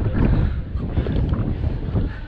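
Strong wind buffets the microphone on a high viewing deck overlooking the landscape at Tayabas, Quezon, a continuous loud rumbling roar throughout.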